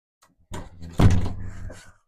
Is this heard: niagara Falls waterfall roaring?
no